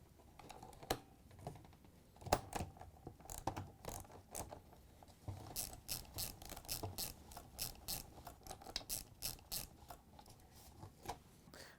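A socket ratchet clicks as it loosens the clamps holding the pump housing to the sump on a GE washer, giving close, crisp bursts of rapid pawl clicks with short pauses between strokes.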